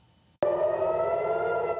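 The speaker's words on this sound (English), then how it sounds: "Another night of sirens in Tel Aviv as this war enters its third week." A loud, sustained air raid siren wail in Tel Aviv during wartime starts abruptly after a brief quiet moment and holds steady, droning on without pause.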